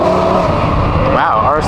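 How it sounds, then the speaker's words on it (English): Ford Bronco driving past at a supercar evening meet, a loud close engine roar with a rising whine as it goes by, while people talk nearby. "It's a Bronco."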